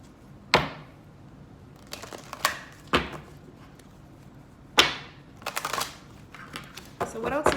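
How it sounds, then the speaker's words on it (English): A deck of tarot cards is shuffled indoors in several separate quick riffling bursts, with quiet pauses between them and a busier flurry of shuffling near the end. "I'm going to shuffle these cards a little bit more."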